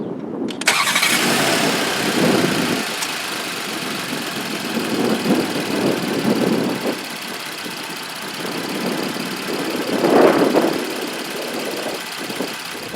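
A 2018 VW Atlas SEL Premium's VR6 engine cranks and fires, then settles into a steady idle with a few swells in revs, heard close and alone.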